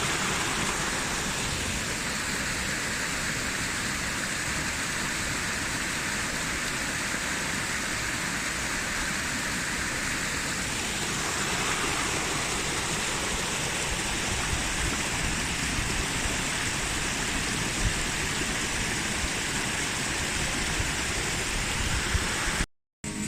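A waterfall in Lebanon fed by cold snowmelt, roaring in a steady, dense rush that stays loud and unbroken throughout, with no voices.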